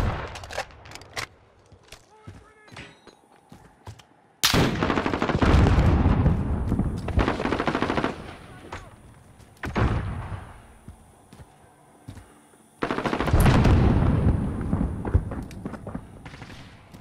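Call of Duty: Modern Warfare sentry gun opening fire in loud sustained bursts, two long stretches of dense automatic fire separated by quieter gaps with scattered distant shots and game noise.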